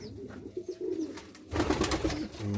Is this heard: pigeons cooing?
yes